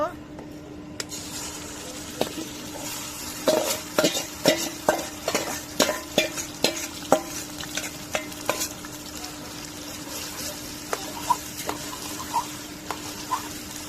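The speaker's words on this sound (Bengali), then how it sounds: "তেল দিয়ে দিলাম, এখন এই বাটা মশলা দিয়ে দিব" Ground spice paste frying in hot oil for a chapa shutki puli, with a steady low sizzle and a run of sharp stirring scrapes and clinks in the middle, then softer taps near the end.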